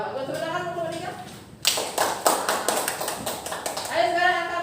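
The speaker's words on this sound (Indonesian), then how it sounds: "Tepuk tangan untuk nomor 3." A classroom of students claps for a classmate, a burst of applause starting suddenly and running steadily for about three seconds, with a teacher's voice talking before and around it.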